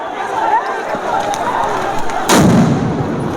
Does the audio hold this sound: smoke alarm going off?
no